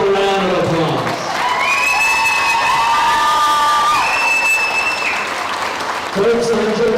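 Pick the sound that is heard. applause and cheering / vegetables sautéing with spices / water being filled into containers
applause and cheering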